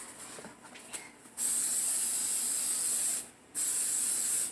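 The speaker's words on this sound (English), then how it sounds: "So I'm about to spray down that one." An aerosol can sprays paint onto a handmade stacked bow, giving two long, loud, steady hisses separated by a short pause, with light handling noises before the first burst.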